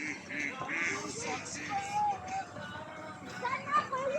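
Faint duck quacks come through a noisy outdoor scene, with people talking quietly and a few short bursts of quacking scattered through.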